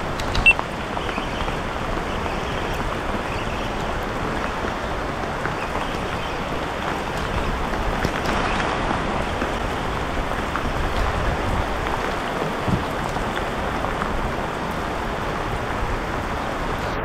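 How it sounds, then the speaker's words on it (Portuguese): Steady rain falls continuously, a dense, even hiss of drops with no clear pauses and no voices, holding at a constant moderate level throughout. "Aí tá chovendo, aqui tá chovendo"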